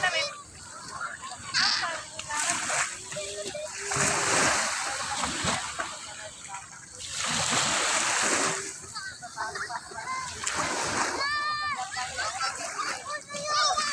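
Water splashes intermittently as someone bathes, with children's voices and chatter over and between the splashes.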